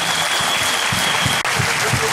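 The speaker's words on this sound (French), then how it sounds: "On va applaudir les enfants. On va les applaudir maintenant." Steady applause from a crowd for children fills the clip, a dense wash of clapping with some voices mixed in beneath it.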